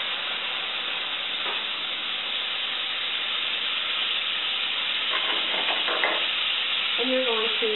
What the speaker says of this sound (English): you're going to melt it over medium heat so that you can saute your vegetables.